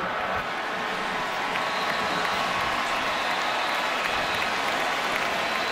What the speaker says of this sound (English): You could hear the crowd groan